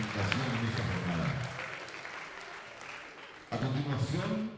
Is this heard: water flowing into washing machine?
no